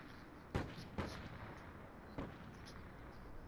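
Three sharp gunshots in Call of Duty: Black Ops 4, a quick pair followed by a single shot, fairly faint over a low background hiss.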